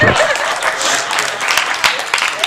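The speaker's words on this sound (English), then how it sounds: "Give me a clap." A church congregation claps during a pastor's sermon, a burst of crowd applause with scattered sharper individual claps, loud and close, fading slightly toward the end, with some voices mixed in.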